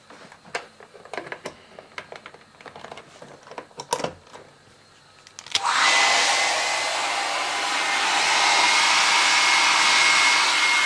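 A hair dryer switches on and roars steadily with a loud broadband hiss after a few seconds of small clattering handling noises.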